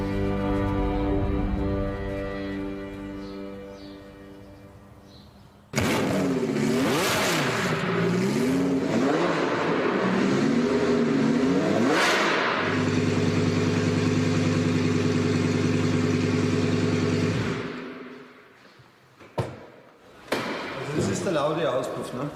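A German Touring Car Classics racing car engine revs hard after a quieter idle, climbing and falling in repeated loud surges, then cuts to sharp bursts, with talk heard at points.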